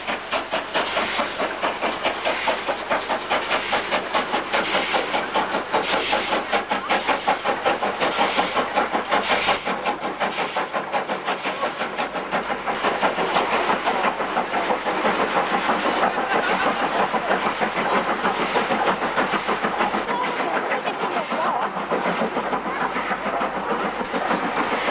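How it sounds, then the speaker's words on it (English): LMS Jubilee steam locomotive 45596 running via Harrogate, a steady rhythmic chuffing and rolling rail noise held at an even loud level throughout. "The Jubilee ran outward via Harrogate and represented the first steam on this circular route for many years."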